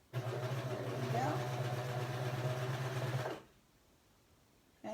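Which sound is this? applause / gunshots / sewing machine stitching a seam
sewing machine stitching a seam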